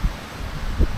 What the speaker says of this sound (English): My goodness, it's windy.